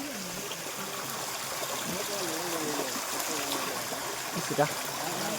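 A clear stream flows at the source of the Musi river in the Ananthagiri hills, giving a steady, moderately quiet trickling rush throughout, with voices faintly audible in the background.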